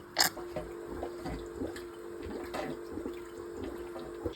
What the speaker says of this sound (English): I'm going to use this pump to pump it out of there and into the bucket